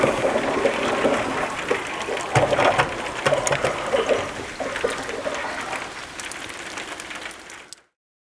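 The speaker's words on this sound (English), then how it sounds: "I can hear it filling up the tank though." Water running into the tank of a chicken waterer, a continuous splashing, trickling rush that holds steady for several seconds, then fades and cuts off at the end.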